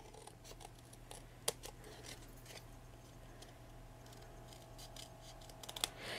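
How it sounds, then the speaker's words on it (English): Scissors trim a dress form made of toilet paper, giving a few faint, scattered snips with one or two sharper cuts over a low steady hum and no talk. "So I'm just going to trim that."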